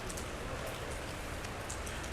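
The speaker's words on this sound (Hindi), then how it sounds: "अभी जो है बारिश तेज़ हो गई है" Heavy rain pours down steadily at Masjid Nabawi, a dense continuous hiss of drops on surfaces close by, with no voices.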